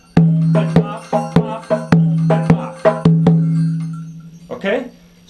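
The iyá drum of a batá set plays the melody for an Ochosi rhythm, resonant low open tones mixed with sharp slaps in an uneven pattern, close and loud, followed by a brief voice at the end.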